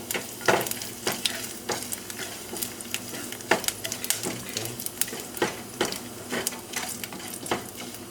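Spices fry in a pot with oil while cooking a vegan malai kofta, a steady close sizzle broken by repeated scraping stirs of a utensil against the pot.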